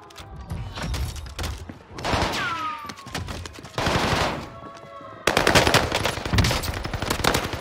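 Rapid bursts of automatic gunfire and shots from Call of Duty Warzone on Rebirth Island, loud and close, arriving in clustered volleys with short pauses between them.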